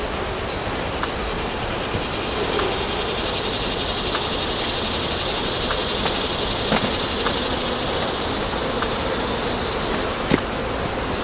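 Dense, continuous buzzing of a honeybee swarm around an opened hive as a brood frame is shaken, a steady high drone with a few faint knocks underneath.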